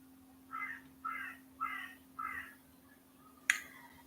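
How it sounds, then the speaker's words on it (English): A bird calls four times in an even rhythm, each call a short clear note, then a single sharp snap follows; quiet indoor setting with a steady hum and no talking. "Did you hear that bird?"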